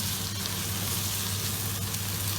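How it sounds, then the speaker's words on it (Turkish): Minced meat and onion filling for stuffed kibbeh browning in a pan, a loud, dense, continuous sizzle with a low steady hum underneath, close and unbroken. "içimiz kavrulmaya devam ediyor"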